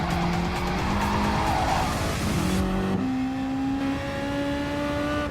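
A Mercedes race car in a Nürburgring 24h online racing video game, engine revving steadily with tires squealing and skidding as it slides off track, the engine pitch climbing through gear changes, no talking.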